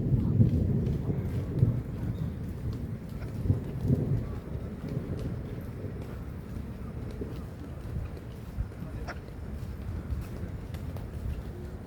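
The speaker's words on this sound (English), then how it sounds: "Thunder." Thunder in an outdoor summer storm around Nagoya Castle rolls as a low, distant rumble, strongest at the start and then fading into a quieter murmur of outdoor background noise.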